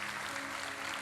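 A church congregation applauding during a sermon, with a steady, dense wash of clapping that carries evenly throughout.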